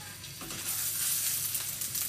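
Chicken ballotine pieces browning in a hot pan of oil for a first sous vide trial, giving a steady, close, fairly loud sizzle with a few soft clicks as they settle.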